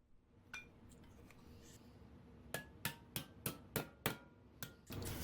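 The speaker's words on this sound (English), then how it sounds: "Then I center the ring around the base mounting holes and tap the creases closed." A metal trim ring on an old Sears bench grinder being tapped closed, a series of about eight sharp, ringing metallic taps in a loose rhythm, close and fairly quiet, after some lighter handling clinks.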